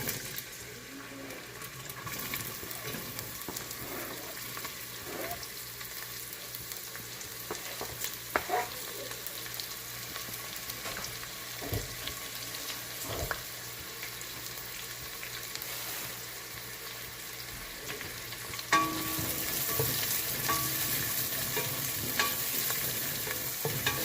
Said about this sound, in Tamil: இப்போ அந்த வெங்காயம் கொஞ்சம் நல்லா சாட் ஆகிறது வரைக்கும் நாம் வெயிட் பண்ணலாம்